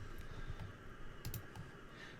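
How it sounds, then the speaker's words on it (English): A name is typed on a computer keyboard: quick, light key clicks in an uneven patter against a quiet room hum, with no talking. "let's just type my name."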